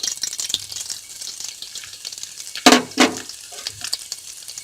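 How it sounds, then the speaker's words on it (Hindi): Maida flour poured into hot ghee for halwa, a soft sizzle breaking into two loud, sharp bursts of frying as the flour hits the fat, then settling back to a low hiss. "घी हमारा गर्म हो चुका है। अब हम मैदा डालेंगे"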